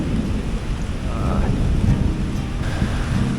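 Steady heavy rain hisses outdoors in Sapa, Vietnam, while low thunder rumbles continuously underneath, loud and close throughout.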